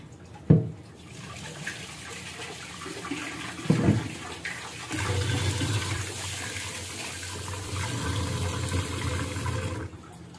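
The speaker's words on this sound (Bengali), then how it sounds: "ডালটা যখন ধুবেন তখন একটু সময় নিয়ে ভালোভাবে কচলে কচলে ধুয়ে" Red lentils being rubbed and rinsed by hand in water, with splashy sloshing and running-water gurgles, a couple of sharp knocks near the start, and a steadier pour through the second half.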